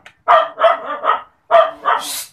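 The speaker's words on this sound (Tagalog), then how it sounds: "Pati yung aso nagalit na rin." A dog barks in two short bursts, three quick barks then two more, loud and close, the last trailing into a higher yelp.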